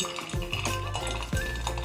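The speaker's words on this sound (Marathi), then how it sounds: "आपलं तेल तापलं का नाही ते बघण्यासाठी थोडासा वड्याचं मिश्रण घ्यायचं आणि थोडंसं असं टाकून बघायचं" Spoonful of sabudana vada batter dropped into hot frying oil to test its heat, giving a close, steady sizzle with a few sharper bursts and light utensil clatter, no talking.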